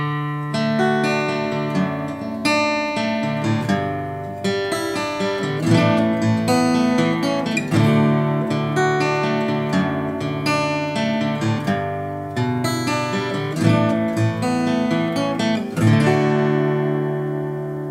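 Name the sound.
guitar playing song chords, picking and strumming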